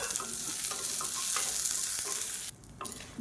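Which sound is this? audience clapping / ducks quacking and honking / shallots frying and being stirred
shallots frying and being stirred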